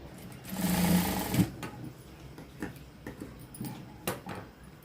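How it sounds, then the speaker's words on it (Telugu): An electric sewing machine stitching blouse cloth runs in a loud close burst, then gives way to scattered soft clicks and handling of the fabric. "ఈ క్లాత్ పైన ఒక కుట్టు అనేది వేసుకోవాలి"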